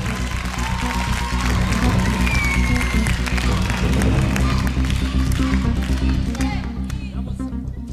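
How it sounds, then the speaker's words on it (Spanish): Studio audience applauding on a Venezuelan TV singing competition show, a steady dense wash of clapping lasting several seconds over music, fading slightly at the end. "un aplauso para ambas intérpretes."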